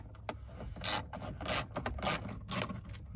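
Ratcheting tool undoing the 7mm screws that hold the radio in a 2000-2007 Ford Focus dash, a close series of quick clicking, rubbing bursts with brief pauses between turns.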